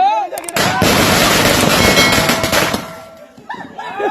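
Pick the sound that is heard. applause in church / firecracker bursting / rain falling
firecracker bursting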